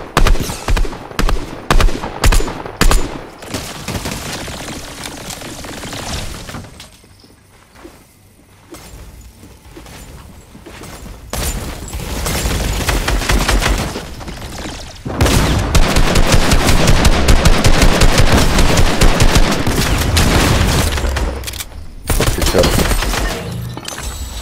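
Gunfire in the video game Fortnite: rapid bursts and long sustained automatic volleys, loud and dense, with a brief quieter lull before heavier continuous firing resumes.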